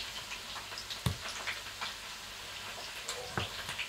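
Spam and tofu sizzle softly in a frying pan, a steady low crackle with a few sharper pops and clatters as the pieces are moved, close and quiet with no talking.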